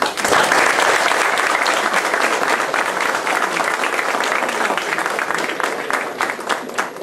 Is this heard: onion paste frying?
no